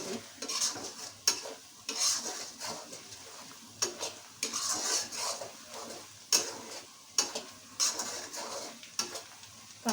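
Spice powder and chilli being stirred and fried in a pan for a meat curry, steady soft sizzling with repeated scraping strokes of a spoon against metal, close and continuous without speech.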